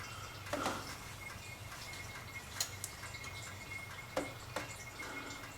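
Oil dripping from a 289 engine in a 1964 Galaxie, a few scattered faint drips and ticks spaced irregularly over a quiet background hum.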